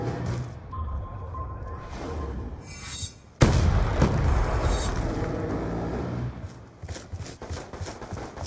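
Lightning Strike airstrike explosions in Black Ops 2 hit with a sudden loud boom after a quieter lead-in, rumbling on in a heavy sustained roll before fading into scattered smaller crackles.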